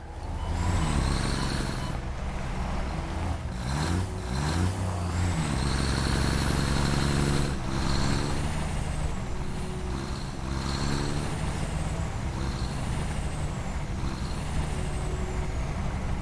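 Truck engine in the Satisfactory video game, a steady loud rumble with shifting harmonic whine as it drives, hissing air-brake-like bursts and faint high whistling tones throughout, no talk.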